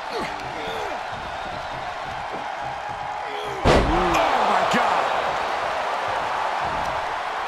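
A body slam in a wrestling video game lands as one sharp, heavy thud partway through, over a steady bed of crowd noise and game sound.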